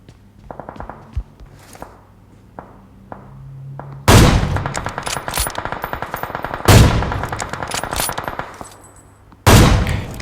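Bursts of automatic gunfire from the mobile battle royale game PUBG Mobile, loud rapid volleys starting about four seconds in and recurring, preceded by quieter in-game footsteps and thuds.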